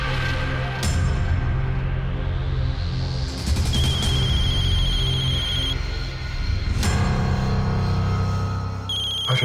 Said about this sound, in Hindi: रज्जू का फोन।